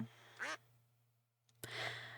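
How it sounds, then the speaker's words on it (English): Duck quack text notification chime from the video game Spring in Her Step, two short bright quacks about a second apart over a steady low hum, close and clear with no talking. "my pocket quacks, letting me know I have a text from my girlfriend"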